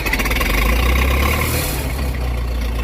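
A 1964 J I Case 830 tractor with wide front end, restored and parade ready, its engine running with a loud, steady low rumble and rough mechanical chatter, close up and without talk.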